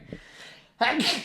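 A single sudden sneeze bursts out loudly near the end, coming after quieter background sound in a home kitchen.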